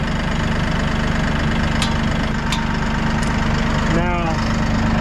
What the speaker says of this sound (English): Nice quiet tractor.